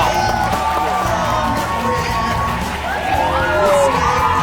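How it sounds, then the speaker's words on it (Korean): A television studio audience cheers and shouts with children's high voices and whoops rising over a steady crowd roar, loud and close throughout, with excited calls standing out near the end. "뜨거운 박수 부탁드립니다!"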